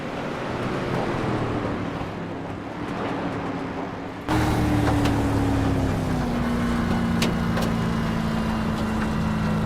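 A race car engine heard from an in-car camera, a steady droning hum that suddenly grows louder partway through and then holds at a constant high pitch, with no talk over it.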